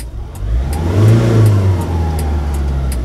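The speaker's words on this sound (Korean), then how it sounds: "클러치 밟고 엑셀 밟으면 공회전 많이 심해요" A manual car idles with the clutch pressed and then revs close and loud. The engine note climbs, holds and eases back over a few seconds.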